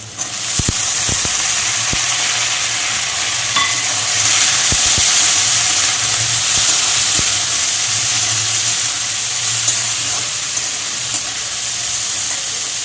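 Onions sizzle steadily in a hot pan where bitter gourd was already frying, cooked for a hilsa tail mash; a constant close, loud fry hiss with occasional small pops and stirring clicks, no talking.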